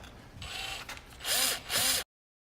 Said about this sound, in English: Now we're gonna take our drill gun and reattach the rubber stops.